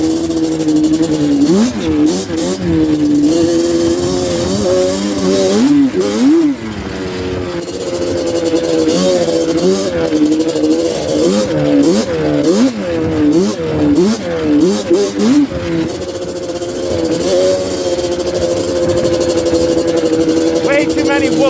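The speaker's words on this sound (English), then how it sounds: "Just revving the shit out of it with no traction." A Yamaha Banshee ATV engine revs hard and continuously in snow with its wheels spinning without traction, a loud, close, wavering two-stroke whine rising and falling in repeated bursts throughout.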